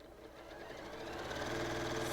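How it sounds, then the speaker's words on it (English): Sewing machine stitching a circle-pattern quilt, its motor running in a steady, fairly loud continuous whir that builds slightly over a couple of seconds, with no voices. "So I'm just gonna sew, and turn, pivot, sew,"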